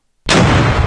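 Grenade blast inside a toaster oven: near-silence, then a sudden loud, dense explosive roar that holds full and harsh through the rest of the moment.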